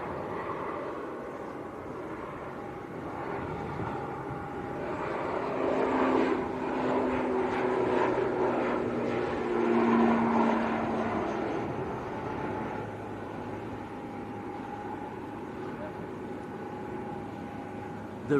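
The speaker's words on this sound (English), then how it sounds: "ATR's rolling. Yep, Aer Lingus to Belfast." An Aer Lingus ATR turboprop airliner departing Leeds Bradford Airport on its takeoff roll, a broad distant propeller and engine roar that swells through the middle and then eases off as the aircraft climbs away, with no talk.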